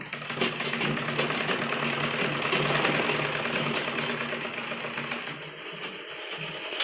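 A sewing machine stitches a ladies' churidar pajami, running in a fast continuous rattling whir that holds steady for several seconds before easing slightly near the end.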